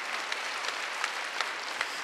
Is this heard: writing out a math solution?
no